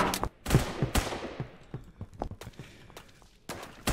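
Rapid bursts of video game gunfire, pistol and rifle shots fired in quick clusters with brief gaps between, loud and close, mixed with faint footstep-like clicks.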